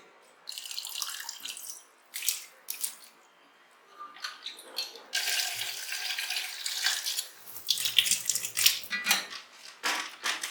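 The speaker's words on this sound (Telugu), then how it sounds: "ఫస్ట్ ఏం చేద్దామంటే ఈ నాటుకోడిని అంతా కూడా బాగా వాష్ చేద్దామండి" A tap runs into a sink while a country chicken is washed by hand, giving uneven bursts of splashing water with light clinks of utensils between them. No one speaks.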